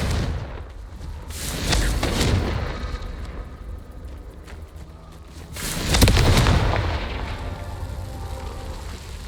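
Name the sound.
Confringo blasting spell explosions in the video game Hogwarts Legacy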